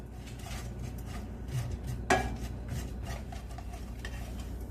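Ingredients toasting in a dry pan over high heat: faint, continuous crackle and rustle with soft scraping of stirring, one sharper clack partway through, no talking.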